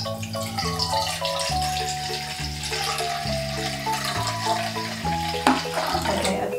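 A cup of vinegar pours for a baking soda volcano experiment, a steady liquid rush under background music.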